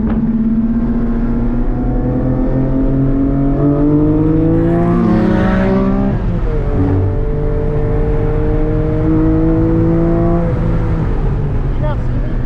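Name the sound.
Porsche 718 GT4 engine revving while driving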